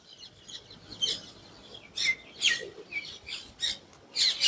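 Parrots give sharp, shrill calls in repeated short bursts, some near and some farther off, over quiet outdoor ambience.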